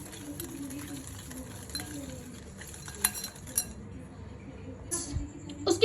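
Pasta salad being stirred in a bowl, with a utensil clinking and scraping against the dish in soft, irregular taps, building to a few sharper knocks near the end.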